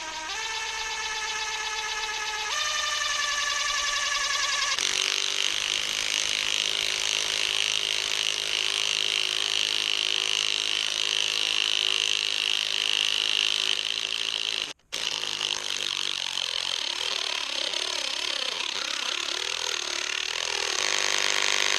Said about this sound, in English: Let's see what the DeWALT 3/8-inch does.